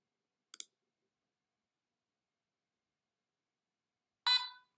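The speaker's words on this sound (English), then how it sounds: "And you had a beep over there." A LEGO EV3 brick lets out a short, bright electronic beep after running a program, preceded by a faint click and silence, heard close and on its own.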